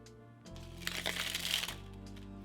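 Playing cards rippling through a V cascade flourish, a brief soft burst of riffling and flicking that lasts about a second at close range in a quiet room, with no talk.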